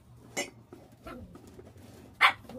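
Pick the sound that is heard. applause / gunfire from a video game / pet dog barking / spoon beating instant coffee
pet dog barking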